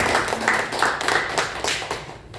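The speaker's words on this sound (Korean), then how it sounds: "우리 다시 한번 우리 옆 사람에게 응원의 박수 한번 보내겠습니다." Church congregation at a Sunday worship service breaks into brief, lively clapping for the people beside them, a loud, dense burst of many hands lasting only a couple of seconds before fading.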